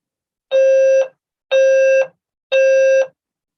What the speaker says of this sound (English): Seems that we have a fire alarm.